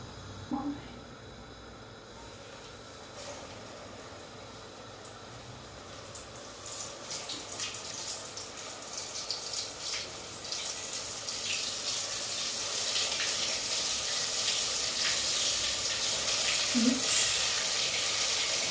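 Potato köfte patties frying in hot oil in a home kitchen, a steady broadband sizzle that grows louder and denser as more patties go into the pan, with faint background sounds and no talk.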